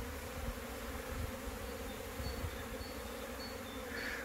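Honeybees buzz steadily around hive frames during an early-spring inspection on a cool day, a continuous close-up drone with no talking.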